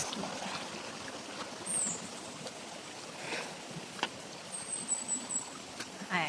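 A river flows beside a rural footpath in Lanao in the Philippines, its steady rushing wash filling the background at moderate level with a few faint bumps and knocks.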